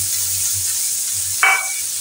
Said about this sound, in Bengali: এখন এই তেলের ভিতরে আমি দিয়ে দেবো পেঁয়াজ কুচি।